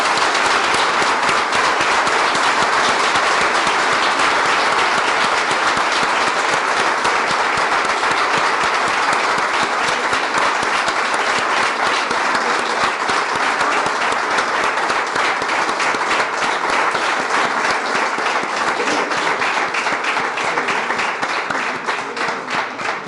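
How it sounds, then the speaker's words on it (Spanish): Enthusiastic audience applause after a literary talk at a book festival, a loud, continuous and dense roar of many hands clapping that holds steady for over twenty seconds before easing slightly at the end. "y ahora sí le damos un fuerte aplauso"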